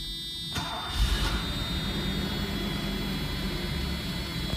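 A 1987 Mercedes-Benz 560SL roadster engine cranks and catches about half a second in, then settles into a steady, close idle rumble with a faint high whine that carries through to the end.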